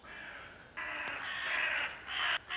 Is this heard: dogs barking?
no